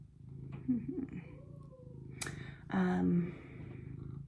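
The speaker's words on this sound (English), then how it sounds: "There's a lot of purring going on right now." A cat purrs close by in a soft, low rumble, with a few brief meow-like chirps breaking in.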